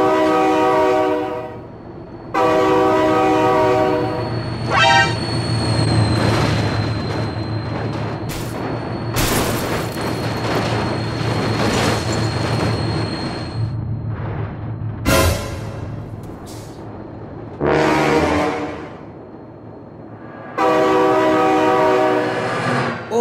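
Train in the BeamNG Drive driving game rumbles past with a loud horn blasting in repeated long blares, steady rolling noise underneath and brief pauses between the horn calls.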